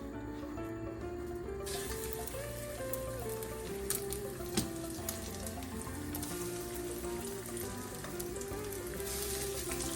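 Food frying in a pan, a steady close-up sizzle that carries on without a break, with a faint tonal hum running underneath.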